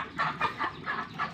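Newly hatched chicks kept as backyard free-range poultry peep in a regular series of bright, close chirps about every fifth of a second, with no talking over them.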